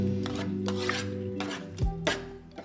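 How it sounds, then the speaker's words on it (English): A spoon stirring chili crisp peanut noodle sauce in a bowl, with a few soft scrapes and clinks against the sides. The stirring stays close and fairly quiet, with a steady hum underneath. "Stir everything together, then add the toasted garlic."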